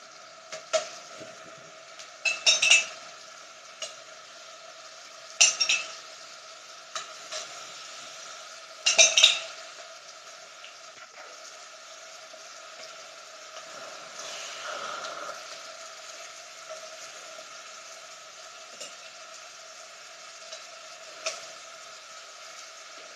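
A spoon scrapes and clatters against a pan as lemon and lime chicken Madras curry is stirred. Three loud bursts of stirring stand out over a steady sizzle, with quieter scrapes and fainter sizzling between them.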